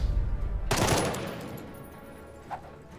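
Gunfire in the video game Jagged Alliance 3: a single loud, close shot or short burst that rings out and slowly decays, followed by a brief faint clink.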